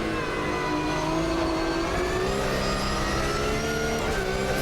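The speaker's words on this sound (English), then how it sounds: "it needs to be a bit more bass there somewhere in the engine tone" Car engine in the Automobilista 2 driving simulator game hums and revs steadily, a continuous mid-pitched tone rising and falling slightly in pitch, alone with no talk.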